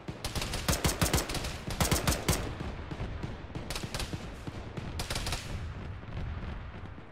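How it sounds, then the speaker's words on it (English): Machine gun fire in the military simulation game Arma: sharp, rapid bursts of automatic shots close by, in several volleys with short pauses between them, with no talking. "Marked machine gun."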